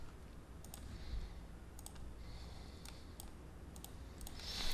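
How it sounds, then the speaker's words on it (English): Quiet computer keyboard clicks in a Houdini 3D modeling session, a few sparse keystrokes in small clusters, faint and close against a steady low hum. "We could hit the tab key and we type in skin."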